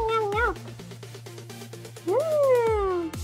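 A person's voice imitates a cat meowing, giving two drawn-out, rising-and-falling meows with a pause between them, fairly close and clear over a faint steady background hum.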